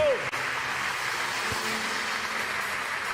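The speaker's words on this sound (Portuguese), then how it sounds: "Vamos aplaudir ao Senhor e receber o nosso bispo." Church congregation applauding, a steady dense wash of clapping filling the room for a few seconds, with an electronic tone at the start and a faint thump partway through.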